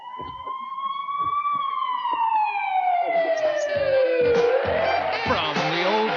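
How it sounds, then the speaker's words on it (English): A loud wailing siren sweeps up and down continuously, with a second siren tone joining partway through, close and steady throughout. "what's that? Sirens."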